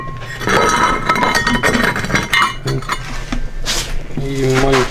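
Shards of a broken plate clink and scrape against each other, close and bright, in a cluster of sharp ceramic taps with faint talk nearby.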